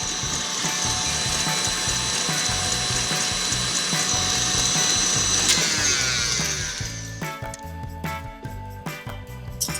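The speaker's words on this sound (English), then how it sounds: "I'll turn the mixer on low and pour that in" An electric mixer whirs steadily on low speed while half a cup of melted butter is poured in, a loud continuous mechanical drone that shifts and turns choppier partway through.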